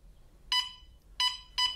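An in-home plug-in gas detector alarm gives three loud electronic beeps in a steady repeating pattern, each a bright harmonic tone about a fifth of a second long, with quiet room hum between them.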